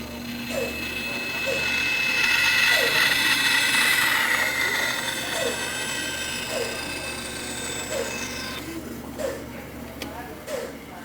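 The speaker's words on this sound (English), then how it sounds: "Run back to the bandsaw." A bandsaw cuts a wooden tenon for a puzzle stool. Its steady motor whine sits close and fairly loud under a repeating soft ticking, then trails off as the cut ends, with a voice talking over it.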